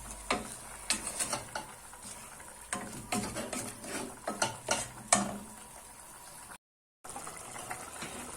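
Spices such as turmeric, ginger, pepper and cumin fry in a pan for a cauliflower and potato galette, giving a soft sizzle with repeated stirring scrapes and taps, with a brief silent gap near the end.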